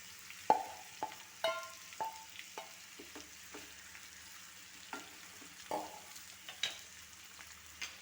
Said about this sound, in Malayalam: അത് മൂത്തതിന് ശേഷം നമുക്ക് ഈ പുരട്ടി വെച്ച ചിക്കൻ അതിലേക്ക് ഇട്ട് കൊടുക്കാം